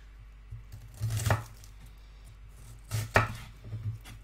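Knife chopping onion scraps on a cutting board while making Italian-style meatballs, two separate bursts of quick sharp chops with a short pause between them, close and fairly loud.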